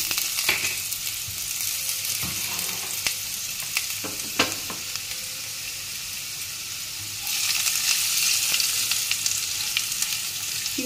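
Peanuts sizzle in hot oil alongside fried potatoes, a continuous crackling hiss broken by scattered scraping and clinking from stirring, close up, swelling louder near the end.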